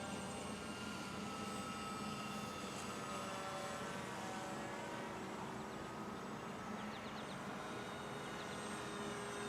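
An Air Hogs Titan RC plane flying at low throttle on a very low-power motor, a faint steady electric motor and propeller drone holding level throughout, distant, with no voices.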